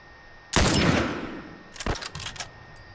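Gunfire in the video game The Last of Us on Grounded difficulty: one loud, close shot with a long rolling tail, then a quick ragged cluster of sharper shots about a second later.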